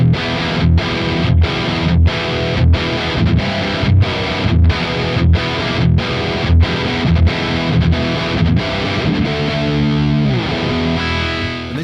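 Electric guitar played through a Revv Generator 100R MKIII amp with the bright switch engaged and reverb off, distorted chugging riffs in tight rhythmic bursts, loud and close, then a sustained ringing chord, no voices.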